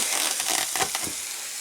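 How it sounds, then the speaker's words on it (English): Steady, crackling sizzle of sausage patties frying in a hot skillet, with soft popping bursts over a continuous hiss. "we got that sausage in there frying"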